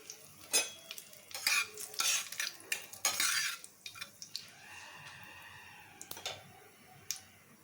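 Five-spice seeds and torn dried red chillies fry in hot oil in a pan, with a spoon scraping and stirring in sharp bursts over a soft, steady sizzle, close and without any talk.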